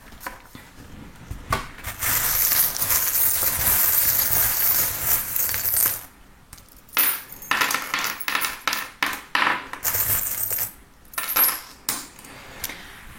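Small divination charms tossed and scattered across a hard surface during a French tarot reading, giving a long stretch of dense clattering and rattling followed by several shorter bursts of clicks and tumbling pieces, close and fairly loud.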